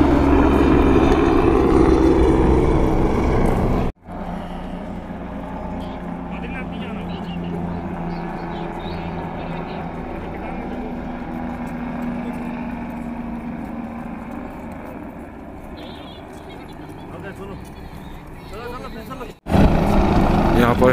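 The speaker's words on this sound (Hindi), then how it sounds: "देखिए हेलीकॉप्टर सर्विस चल रहा है।" Helicopter flying at the Kedarnath helipad, a sustained loud rotor and engine roar lasting many seconds, nearby, with someone talking over it at the start and end.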